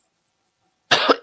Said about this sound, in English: Yes, I have the cough.